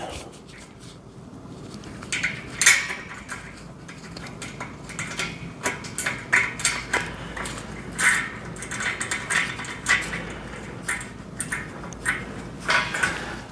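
Metal washer and nut being fitted by hand onto a bolt of an iron steel-frame garden park bench: light, irregular clinks and scrapes of small metal parts, close by, scattered over a low room hum, with no talking.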